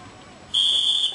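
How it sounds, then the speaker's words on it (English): A single sharp, shrill whistle blast starts a track race at the Kissena track state meet in 2006, holding steady for about half a second over quiet outdoor background. "On the whistle."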